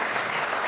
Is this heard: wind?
no